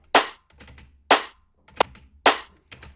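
A layered drum and bass snare built from woodblock and rim hits sounds as sharp, loud cracks in a steady pattern, about four main hits, with softer ghost taps between them and short decays.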